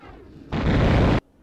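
A loud, close explosion in the Tomb Raider video game, a sudden broad blast lasting under a second that cuts off sharply into quiet.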